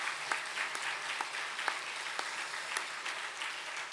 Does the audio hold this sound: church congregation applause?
yes